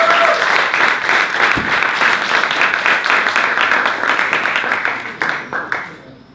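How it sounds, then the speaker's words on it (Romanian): Dense audience applause fills a pub during a talk evening, steady clapping from many hands throughout, thinning and tapering to scattered claps near the end. "Să aplaudăm pe Valentina"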